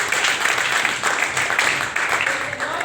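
A congregation at a Sunday church service applauds together, a loud, dense clapping that holds steady for a few seconds in a reverberant hall.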